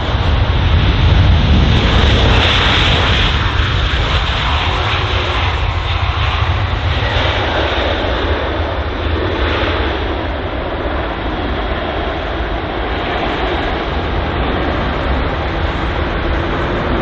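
A jet airliner roars at London Heathrow, a loud sustained broadband engine rush that stays strong throughout and fades only a little toward the end, with no talk over it.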